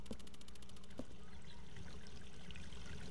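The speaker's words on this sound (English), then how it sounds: "I hear the water. The water's watering." Running water in the video game Hello Neighbor, a faint, steady trickling pour heard alone across the whole stretch, with a couple of soft knocks near the start.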